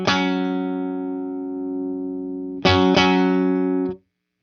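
Electric guitar played through an ML Sound Lab Amped Oracle amp modeler emulating an Orange amp, with the master turned up: a loud, sustained distorted chord rings for over two seconds, then two more struck chords ring before being cut off.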